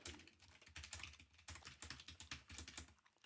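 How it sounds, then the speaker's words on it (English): A computer keyboard clicks quietly in a rapid, uneven typing rhythm at a desk during a livestream coding session, faint but continuous with no talking. "do you hear the keyboard clicking?"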